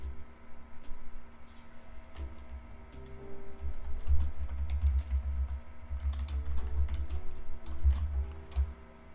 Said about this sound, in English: All I hear is typing.